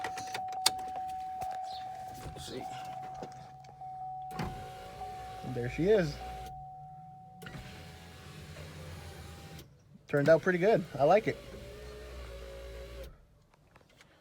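A Nissan Titan power sliding rear window fitted to a 2005 GMC Sierra runs slowly with the engine off, a whirring motor heard in several separate runs, with someone talking briefly between them.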